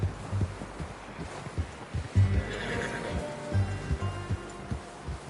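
A horse in the video game Red Dead Redemption whinnies loudly with a long, shaky neigh, alongside snorts and heavy hoof thuds close by.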